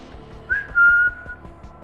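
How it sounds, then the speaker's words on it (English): A single whistle sound effect, clear and fairly close, with a short rising chirp followed by a steady held tone that fades away over a soft rhythmic background. "a whistle."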